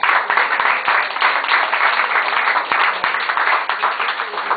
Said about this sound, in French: Voulez-vous applaudir